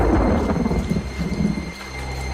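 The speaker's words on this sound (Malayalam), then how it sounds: "പിന്നെയും മഴ." Rain and thunder in a Malayalam cartoon: a heavy, low rolling rumble with a rainy wash that fades toward the end, loud and close, with no voices.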